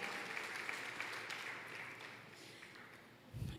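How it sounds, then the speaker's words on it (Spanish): A church congregation applauding, an even wash of clapping that gradually fades in intensity. "Vamos a darle un fuerte aplauso al Señor"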